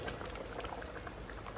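Food bubbles at a steady, vigorous boil in a pot on a home kitchen stove. The dense, continuous bubbling is close and fairly quiet, with no voices.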